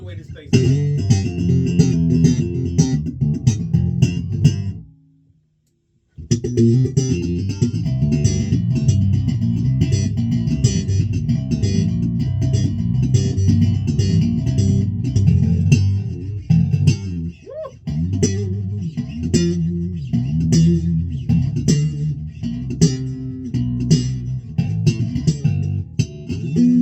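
A custom Valenti electric guitar played with its volume barely cracked open, producing a steady run of plucked notes and chords with one short pause near the start, clean and close.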